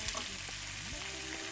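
Ginger garlic paste frying in hot oil for a chicken roast, a soft, steady sizzle with a brief muffled clatter near the start. Short and quiet, with no speech.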